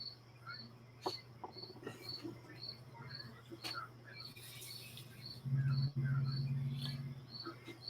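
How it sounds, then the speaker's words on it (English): Crickets chirp steadily outside an open door, a continuous high trill running through the whole stretch, faint and distant against a low hum with a few soft knocks and rustles nearby. "Can you hear crickets?"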